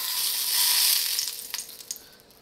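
Steak sizzles loudly in hot oil in a pan, a dense, hissing fry that eases off slightly toward the end, broken by a few crackling pops, with no talking.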